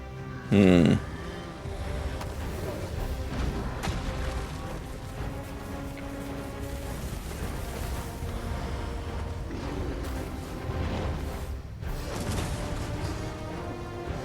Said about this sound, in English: That's a good fire skill right there. Combustion.